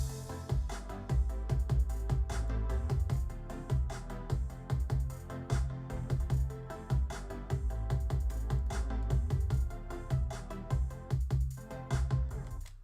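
A future bass beat with trap-style drums, booming 808 bass and open hi-hats plays continuously at full level, dense and punchy, with sharp rhythmic hits throughout and no voices.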